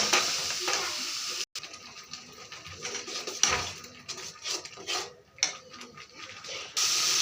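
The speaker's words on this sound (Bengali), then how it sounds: "এখন মশলাটাকে ভালো থেকে কষিয়ে নেব" Spices frying with onions in a pan, a close hiss and sizzle broken by scraping stirs and a few sharp clatters of the utensil against the pan, with a brief pause partway through.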